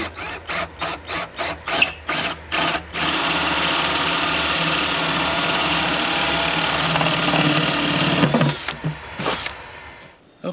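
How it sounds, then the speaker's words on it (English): A power drill boring a hole through a plastic bucket: a series of short trigger bursts, then a long steady whine while cutting, ending with a few more brief bursts, loud and close. "you don't want to put a lot of pressure when you're drilling the hole, because you don't want to splinter the bucket."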